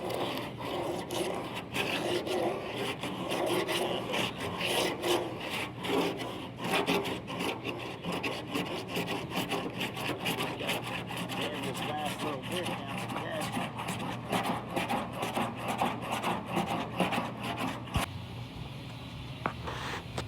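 A firm 40-grit sanding block rasps back and forth on a 1937 Chrysler Imperial during restoration, producing continuous close scraping strokes with a steady rhythm.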